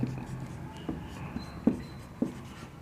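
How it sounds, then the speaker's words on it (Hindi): Chalk or marker strokes on a board during a maths lesson, a few soft scratchy taps and short rubbing strokes spaced irregularly, faint and close, with no talking. "नीचे लाइन में लिखते हैं"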